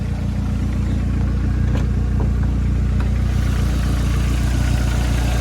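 Ford Sierra Cosworth turbo engine idling steadily and close by, a deep even rumble with a regular throbbing pulse and faint ticks, with no speech.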